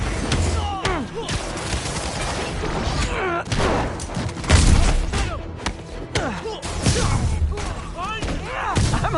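Gunfire and heavy impacts in a Spider-Man video game, scattered thuds and shots mixed with a busy combat soundscape, with characters' voices shouting over the action.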